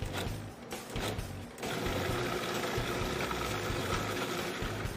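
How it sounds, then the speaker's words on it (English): Food processor with an S blade and 1 horsepower motor runs with a steady, dense mechanical whir that rises in loudness and stays constant after a brief uneven start. "we're going to load it into the food processor with the S blade, lock our top, pour a liquid down"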